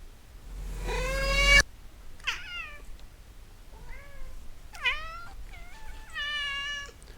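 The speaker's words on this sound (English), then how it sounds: "I took one of the cat sounds that we have here" Several cat meow samples play in sequence, from a long loud drawn-out yowl to shorter rising and falling mews and a wavering trill, close and clean with no talking.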